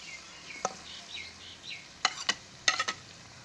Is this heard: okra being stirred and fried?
yes